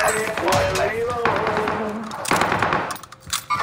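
Rapid bursts of Call of Duty: Warzone gunfire crackle steadily throughout, with a person talking over the shooting.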